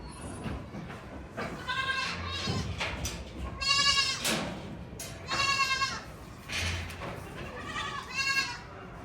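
Baby goats bleat repeatedly at close range, a series of wavering cries that come in irregular bursts with short pauses between them.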